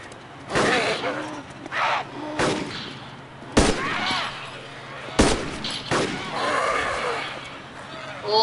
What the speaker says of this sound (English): I don't know who's shooting in Cherno, but I know who's shooting Elektro.